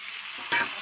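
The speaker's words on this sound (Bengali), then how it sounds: "একটু ভেজে নেব" Pumpkin, potato and onion frying in mustard oil with leftover prawn ghee in a wok, a steady close sizzle with one brief scrape of stirring midway.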